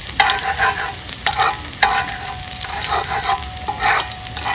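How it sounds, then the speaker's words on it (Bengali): Chopped garlic frying in white oil gives a loud, close, crackling sizzle, broken by bursts of spoon stirring and scraping, with no voices. "রসুন কুচি দিয়ে দেবো।"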